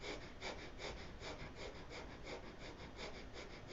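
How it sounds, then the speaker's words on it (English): Deep belly breathing during a guided breathwork session, a steady stream of airy breaths in a quick, regular rhythm, close and fairly soft. "Taking a breath into the belly and beginning your breath work."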